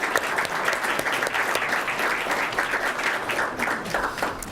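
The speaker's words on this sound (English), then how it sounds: "So a big round of applause for all our sponsors." A room of guests at a student-of-the-month breakfast claps for the event's sponsors, a full, even round of applause that carries steadily throughout.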